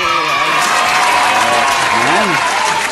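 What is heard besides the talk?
applause at a daycare feeding event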